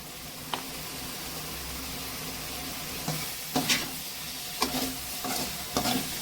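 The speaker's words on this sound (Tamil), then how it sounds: "மிளகுத்தூள் போட்டு நம்ம கொஞ்சம் நேரம் கிளறி விட்டுட்டு எடுத்துக்கலாம்" Meal maker (soya chunk) gravy seasoned with pepper powder is stirred in a pan, giving a steady sizzling hiss broken by several scraping stir strokes close by.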